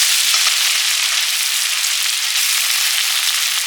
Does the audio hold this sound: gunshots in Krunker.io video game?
no